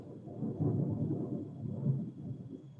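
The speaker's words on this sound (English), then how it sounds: "Just heard the lightning." Thunder from a storm outside rolls as a continuous muffled low rumble, steady and fairly loud, picked up in the background of an online meeting with no voices.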